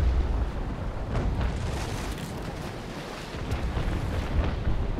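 Naval Action game cannon fire during a large fleet battle involving the USS Constitution: dense, continuous rumbling booms and crackling blasts layered over wind and sea noise, loud and sustained throughout with no talk.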